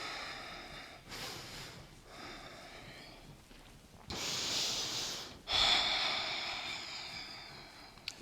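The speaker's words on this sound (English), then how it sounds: "Breathing through the nose." Slow, deep breathing through the nose during a gentle upper-body stretch, with two louder breaths in the middle and end over a soft steady background.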